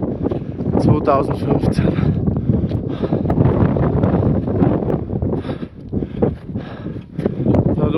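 Strong, steady wind buffeting the microphone on the Biancograt summit ridge of Piz Bernina (4,048 m), a continuous roar with gusts throughout while people talk over it.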